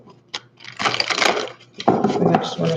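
Tarot or oracle cards being shuffled by hand, giving bursts of papery riffling and rustling with a few soft taps, close and fairly loud, and a faint voice in the background.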